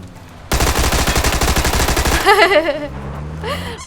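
Video game gunfire rattles out in a loud, fast automatic burst of evenly spaced shots lasting under two seconds, followed by squealing tonal game sounds.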